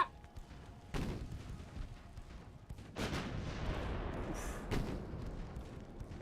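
Heavy naval gunfire from warships in the naval combat game Ultimate Admiral: Dreadnoughts, with loud booming salvos at about one, three and five seconds over a constant rumbling background.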